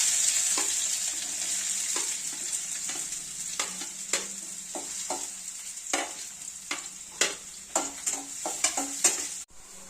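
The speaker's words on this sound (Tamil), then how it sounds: "இப்போ வெங்காயத்தை போடணும், தாளிக்கணும்." Onions sizzle and crackle in hot oil with mustard seeds, with scattered sharp pops and occasional stirring scrapes, steady and close with no voices.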